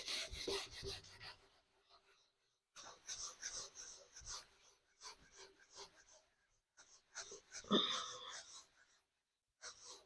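Writing is rubbed off a board in three bursts of close, scratchy scrubbing strokes, separated by short silent pauses.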